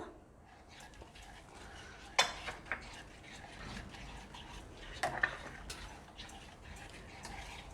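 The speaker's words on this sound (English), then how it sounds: "Let us stir it for quite some time." A spoon stirring thick sweetened milk with condensed milk in a pan for rabri, soft scraping with a few sharp metallic clinks against the pan, near and fairly quiet, without talk.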